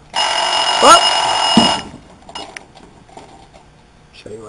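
Mechanical timers on a Vulcan three-deck pizza oven ring with a loud, steady metallic bell for about two seconds, then stop abruptly, leaving faint kitchen clatter and brief talk.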